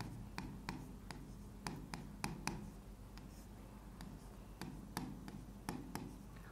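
Hand-writing of notes during a geography lesson, faint sharp clicks and taps of a pen or marker in irregular bursts over a steady low background hum, with no talking.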